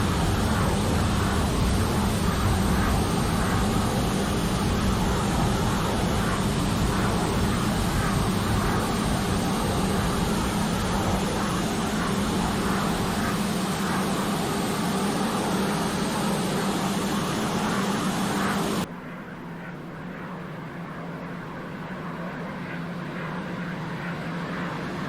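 Me 262 jet aircraft taking off in the Il-2 Sturmovik flight game, a steady loud roar of jet engines that holds constant before dropping abruptly to a quieter, duller hum near the end.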